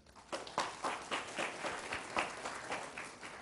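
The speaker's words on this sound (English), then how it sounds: "just give them a round of applause" A small audience at a candidate forum claps for a few seconds, its individual claps loosely rhythmic and distinct, moderately loud in a room.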